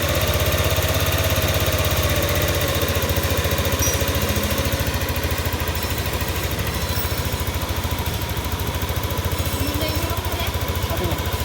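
Yamaha Aerox 155 VVA scooter engine, rough-sounding and fitted with Mio M3 rollers, runs steadily close by with a continuous mid-pitched mechanical drone and slight vibration throughout, no speech over it.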